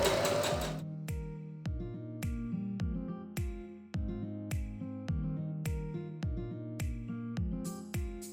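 Domestic sewing machine stitching fabric for a marker pencil case, a fast regular rhythm of needle strokes in short repeated runs with brief pauses, close and clear with no voices.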